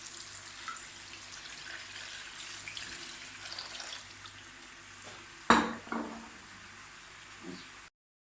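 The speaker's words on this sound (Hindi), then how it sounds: "आप इस चिकन में पानी डाल देते हैं।" Water is poured into chicken cooking in a pot, giving a steady, faint hiss and sizzle that ends in a sudden sharp clatter and a few splashy bursts before cutting out.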